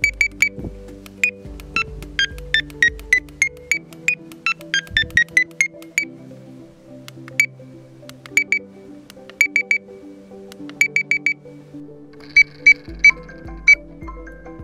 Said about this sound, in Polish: to jest dźwięk sygnalizatora na moim smartfonie.